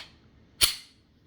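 A single sharp, close click as the Performance trigger of a Glock 17 Gen5 pistol breaks, decaying quickly into quiet.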